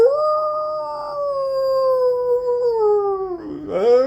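A single long, drawn-out dog howl slides slowly downward in pitch, then breaks into a short rising yelp at the end. It is loud and close.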